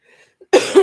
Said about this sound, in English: sorry, I'm coughing, you guys.